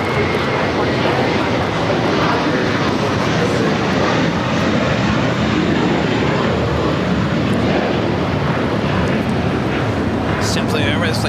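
A JetBlue Airbus A321 jet at LAX makes a loud, sustained engine roar, continuous and close, with people talking over it.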